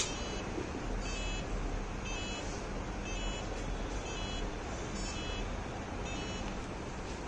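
A hexacopter swarm drone sounds a series of short, regular electronic beeps, about one per second, as it initializes; the beeps are faint over steady broadband hiss, with no talking.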